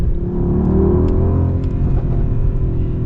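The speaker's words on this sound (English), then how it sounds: "Hopefully you guys heard that out of the exhaust." A 2022 Mercedes-AMG GLE 63 S exhaust growls continuously as the engine accelerates, a loud, steady roar with rising pitch and no talking.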